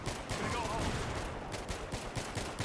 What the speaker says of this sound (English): I was just shooting you for shits and giggles